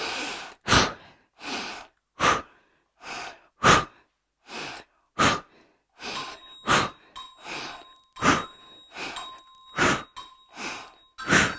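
Heavy breathing during a yoga workout, with about a dozen forceful inhales and exhales in a steady rhythm, close to the microphone, with a faint tone sounding in the background partway through.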